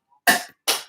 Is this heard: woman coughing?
yes